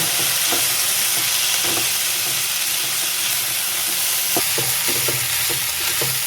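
Carrots and brinjal stir-fried in a pan give a steady, close sizzle with scattered scrapes and clicks of stirring, heaviest toward the end, with nobody speaking.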